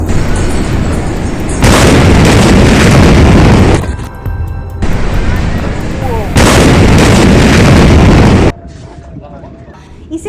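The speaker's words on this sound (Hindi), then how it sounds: "इसे सदी का सबसे बड़ा धमाका भी कहा जा रहा है" Massive, roaring blasts of the Beirut, Lebanon explosion dominate, two long thunderous bursts separated by a brief lull, ending in quieter rumbling aftermath.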